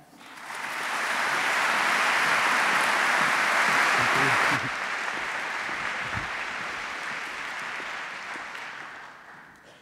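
Audience applause welcoming Professor Murray Shanahan to a talk on the future of artificial intelligence, a dense, steady wash of clapping from a large crowd that swells in and holds for nearly ten seconds before easing slightly.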